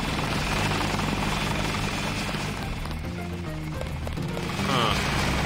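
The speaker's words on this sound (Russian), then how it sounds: "Опа, это что? Звук вертолета?" A helicopter in the video game Deus Ex thrums with a steady rotor drone, fairly faint and distant, holding evenly before swelling slightly near the end.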